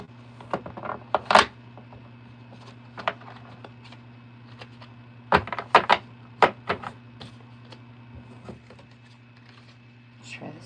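Tarot cards being shuffled by hand during a reading, heard as scattered papery riffles and taps, with a denser flurry midway through, over a steady low hum.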